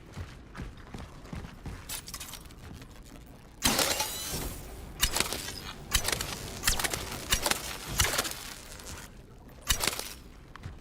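A heavy bolt mechanism moving in the survival horror video game CRONOS: The New Dawn, with repeated metallic clanks, creaks and scraping thuds in irregular bursts, louder in the second half.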